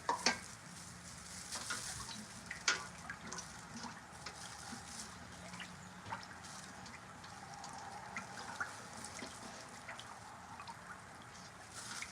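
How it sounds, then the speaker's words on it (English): Soap being stirred and melted down in a pot, a faint continuous sizzling hiss with scattered small scraping clicks of the stirring, quiet and steady throughout. "Now I'm just stirring. Pretty much just stirring and melting down"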